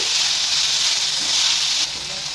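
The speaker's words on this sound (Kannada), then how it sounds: "ಜೀರಿಗೆ, ಮೆಣಸು, ಮೆಂತೆ, ಒಣ ಮೆಣಸಿನಕಾಯಿ, ಟೊಮೊಟೊ, ಈರುಳ್ಳಿ ಮತ್ತು ಬೆಳ್ಳುಳ್ಳಿ ಹಾಕ್ತೀನಿ. ಚೆನ್ನಾಗಿ ಫ್ರೈ ಮಾಡ್ಕೊಳ್ಳೋಣ." Cumin, pepper, fenugreek, dry chilli, tomato, onion and garlic fry in a pan with a steady, bright sizzling hiss. It holds evenly and then eases a little toward the end.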